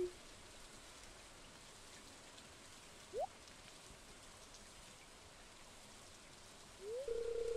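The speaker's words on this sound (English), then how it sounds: "watching the curtains of rain whisper above a silent lake" Soft, steady rain patters down onto a lake in the farming video game Stardew Valley, a quiet even hiss with a couple of brief chirping game tones breaking through near the middle and end.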